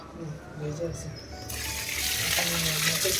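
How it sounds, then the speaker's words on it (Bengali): Water poured from a tap or can onto Malabar spinach plants in a home garden, a steady gushing splash that swells after a quiet start, with voices talking underneath. "পুঁই শাকগুলোতে একটু জল দিয়ে দিই"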